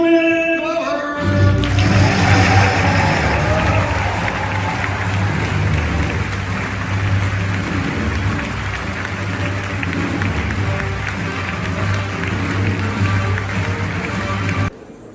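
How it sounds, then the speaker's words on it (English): Fan convention crowd at FedCon gives a big round of applause for a guest, loud sustained clapping that starts after a brief musical moment and continues steadily for about thirteen seconds before cutting off. "So please give a big round of applause for Julie Glover."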